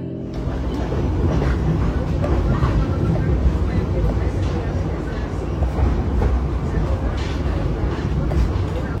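Ciremai executive-class passenger train rumbling steadily along the line toward Cimahi station, heard from inside a carriage as a continuous, loud low roar with faint voices in the background.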